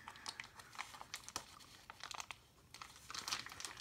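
Plastic MRE steak pouch packaging being torn and crinkled by hand, a close series of short ripping and crackling bursts with brief pauses, no talking.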